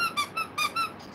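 A squeaky dinosaur toy squeaks four times in quick, even succession, high-pitched and close.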